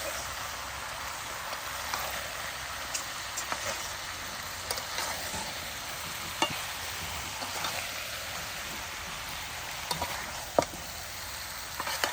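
Chicken sautéing with Kashmiri chili in a pan, a constant moderate sizzle like light rain, with scattered faint spatula clicks and stirring taps and no one talking.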